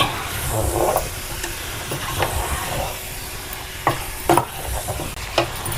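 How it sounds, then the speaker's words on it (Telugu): Chicken pieces being stirred with masala spices in a pan, scraping and clattering stir strokes over a soft sizzle, with a few sharper knocks toward the end. "ఇప్పుడు చికెన్ వేసేసాం కదా, ఇంక ఇది చక్కగా కలిపేసుకుని చికెన్కి మసాలాలన్నీ పట్టేలాగా శుభ్రంగా కలిపేసుకోండి"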